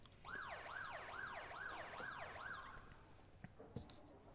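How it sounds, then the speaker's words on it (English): A wailing track siren in a racing video game sweeps up and down in rapid, regular cycles for a few seconds, then cuts off, leaving faint background noise and a few clicks. "Siren sounds around the track for the drivers to start taking their grid positions"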